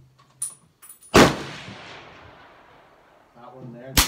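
A Brno rifle fires at an outdoor shooting range during a bolt shim test: one loud, sharp report with a long, rolling decay, a second shot cracking right at the end, and faint voices and small sounds between them.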